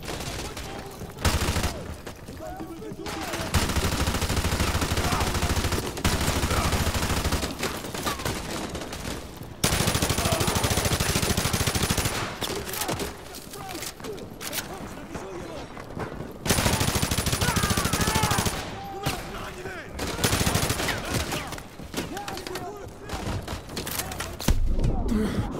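Sustained automatic gunfire riddling a house in Call of Duty Modern Warfare 2, long loud bursts broken by short pauses, with occasional thuds and a voice talking over parts.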